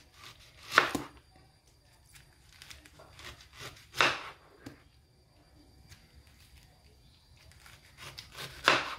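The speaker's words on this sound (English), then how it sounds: "Thin slicings." A knife slices roasted pineapple into thin pieces, giving three crisp, close cutting strokes spaced a few seconds apart, with quiet gaps between them.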